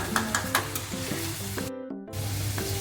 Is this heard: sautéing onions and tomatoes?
yes